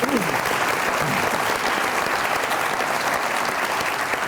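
Dense, steady applause from a studio audience on a Pakistani comedy talk show fills the whole stretch, loud and continuous with no pauses.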